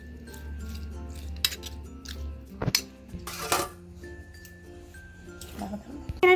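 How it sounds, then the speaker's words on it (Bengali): A spoon mixes shrimp with salt and turmeric in a bowl, making scattered metallic clinks and taps against the dish over a quiet background. "চিংড়ির সাথে লবণ ও হলুদটাকে খুব ভালোভাবে চামচের সাহায্যে মিশিয়ে নিচ্ছি"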